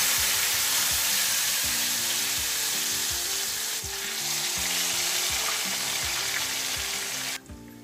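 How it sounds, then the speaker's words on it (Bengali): Chicken pieces sizzle steadily in hot oil over a low flame, a dense continuous crackle with faint rhythmic scraping and stirring, loud and close throughout, briefly dipping near the end. "হ্যাঁ, আমার তেলটা গরম হয়ে গেছে। এখন আমি একটু জালটাকে একটু লো ফ্লেমে করে দিলাম। বিসমিল্লাহ বলে আমি চিকেনগুলো এখন দিয়ে দিই।"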